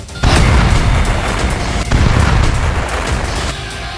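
Two heavy, booming blasts from Israeli strikes on Hezbollah targets in Lebanon, each hitting hard and then rumbling off into a noisy, reverberant tail.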